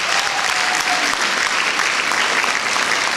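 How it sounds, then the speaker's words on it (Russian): Steady, dense applause from a concert audience honouring a folk instruments orchestra and its teachers, continuous and even throughout with no talk. "Аплодисменты."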